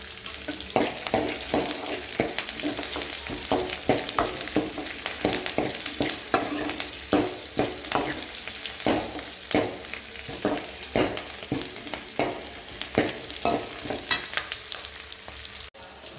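Steady, loud sizzling of garlic, dried red chillies and curry leaves frying in hot oil, with occasional clicks of stirring throughout.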